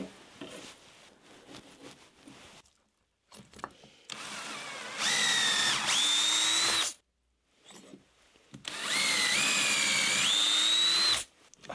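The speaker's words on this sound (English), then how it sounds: "if I drill through the centre of the two blocks" A power drill bores through the centre of two stacked wooden blocks for a garden obelisk in two sustained, loud whirring bursts, each rising slightly in pitch as it bites, separated by a short pause.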